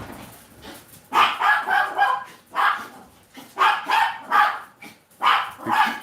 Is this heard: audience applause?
no